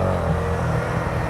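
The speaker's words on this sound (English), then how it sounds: "and the engine comes alive" A large Honda motorcycle engine holds a brief, close, steady rumbling rev with no talk over it.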